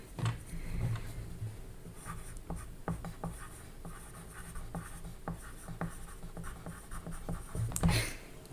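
A pen scratches steadily across paper as a reference number is written by hand, a soft, continuous rasp broken by small taps, close and quiet with no talking.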